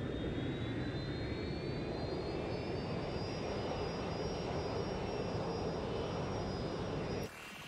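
Airplane engine drone in Watch Dogs Legion during flight: a loud, steady roar with a rising whine held throughout, cutting lower and quieter near the end.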